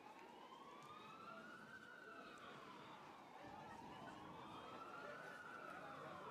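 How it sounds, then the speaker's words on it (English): Ambulance sirens wail steadily in the distance throughout a rowing race broadcast on the Yarra, their rising and falling tones sustained over continuous background noise, with a voice faintly present. "now you can probably hear ambulance sirens in the background"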